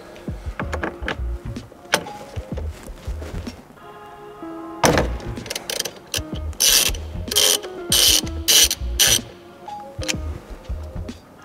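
A ratchet loosens the steering wheel nut on a 2022 Subaru BRZ/GR86: bursts of sharp, close ratcheting clicks come in quick strokes, with short pauses, a few thunks and rattles between them, and no talk.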